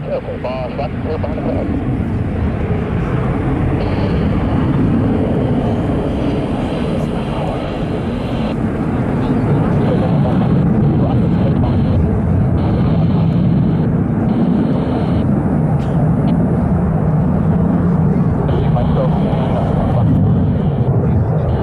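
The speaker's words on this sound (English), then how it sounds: "Transition takeoff. Very shortly he'll be going vertical." A Blue Angels jet roars through a transition takeoff at the Pensacola NAS airshow, a loud, unbroken, rumbling engine roar that holds steady for the whole stretch.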